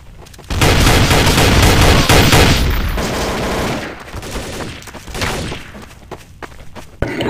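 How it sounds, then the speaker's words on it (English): TMP and MAC-10 machine pistols firing in Counter-Strike: Source, loud rapid bursts of automatic gunfire that roll on for several seconds, then thin out into scattered shots near the end. "Next round is TMP and MAC-10s. Machine pistol time."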